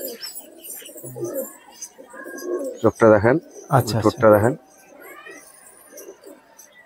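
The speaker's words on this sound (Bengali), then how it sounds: "এই যে ছোট ছোট দেশি পায়রা একটা আলাদাই মানান পায়রা" Small local pigeons coo in a few deep, throaty bursts close by, while people chat around them before and after.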